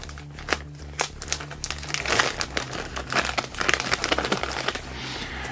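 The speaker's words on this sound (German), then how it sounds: "Sorry, wenn es hier ein bisschen raschelt." Close crinkling and crumpling of packaging while Nintendo 64 games are unpacked, a busy run of dry rustles and crackles against a low hum.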